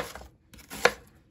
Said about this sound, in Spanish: voy a picar la cebolla en juliana